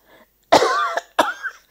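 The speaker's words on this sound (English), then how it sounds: "I must cough now." Two harsh, close coughs in quick succession at a mosque during a Mawlid gathering, the first longer and raspy, the second shorter, with silence around them.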